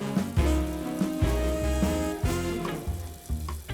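Water is poured over rice and then drained off during rinsing in a kitchen, giving a splashing, gurgling wash with clattering pulses, close and moderately loud, with no talk over it.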